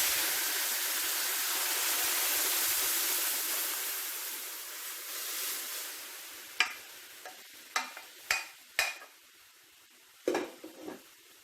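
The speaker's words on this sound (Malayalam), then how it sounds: "ഇനി ഇതിലേക്ക് നമുക്ക് സാമ്പാർ ഒഴിച്ചു കൊടുക്കാം" Mathanga (pumpkin) sambar is poured into a pan, starting with a soft, continuous liquid hiss, then several sharp metallic clinks and scrapes as a spoon stirs against the pan.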